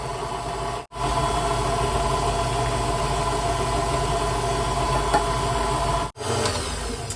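Electric hand mixer beating eggs one at a time into chocolate brownie batter, a steady loud motor whir running nearly the whole time, with two brief cutoffs where it stops and restarts.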